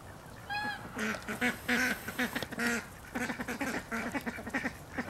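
Several ducks, mostly females with a few drakes, quack in a noisy, overlapping chorus, close by, with rapid bursts of honking calls continuing throughout.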